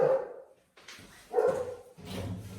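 Dogs barking outside a house, a few separate barks and yips at moderate distance with short pauses between them, heard indoors without talk over them.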